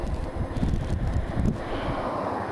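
Strong gusting wind at an exposed spot between buildings rumbles and buffets the microphone in low, uneven bursts, loud and close, with no speech over it.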